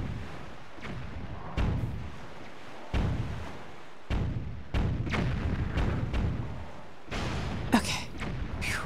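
Bombs explode one after another in The Legend of Zelda: The Wind Waker on GameCube, a series of heavy booming thuds spaced irregularly over several seconds, with a sharper crack near the end.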